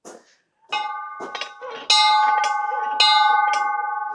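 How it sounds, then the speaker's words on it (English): Bell being rung at a horse shelter, several bright, close strikes that ring out and sustain, with brief voices in between. "She's gonna ring the bell."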